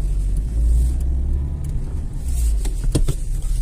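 A car engine drives along a road and shifts into second gear, giving a loud, steady low rumble with some rising revs and a few sharp knocks near the end.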